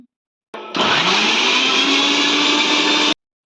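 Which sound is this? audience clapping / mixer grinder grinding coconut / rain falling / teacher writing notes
mixer grinder grinding coconut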